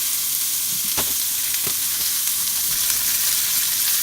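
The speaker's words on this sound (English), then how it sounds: "In a high heat, unoiled pan, go ahead and sear both sides of your oxtail." Oxtail searing on high heat in a hot, unoiled pan, giving a loud, continuous sizzle up close, with a couple of faint clicks partway through.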